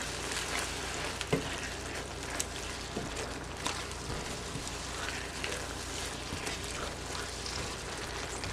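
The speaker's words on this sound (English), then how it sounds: "Stir that around. I'm going to break up the beef as I go." Home-canned roast beef with parsley is stirred and broken up in a hot pan. A continuous soft sizzle runs under scattered scraping clicks and taps from the utensil.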